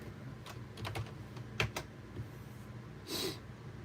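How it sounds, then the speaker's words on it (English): Quiet typing on a computer keyboard, with keystrokes arriving in irregular short bursts and small clusters followed by a brief pause, close and soft, with no one talking. "I'm just typing."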